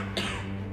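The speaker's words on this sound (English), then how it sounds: "you run the risk of symptoms like cough," A single short, sharp cough sounds close by against a low, steady background hum.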